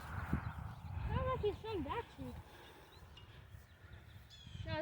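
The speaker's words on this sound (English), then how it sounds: "Oh, that's that bird right there." A bird gives a short run of squawking, honk-like calls at middle distance over low outdoor rumble on a wildlife area trail, with a faint voice nearby.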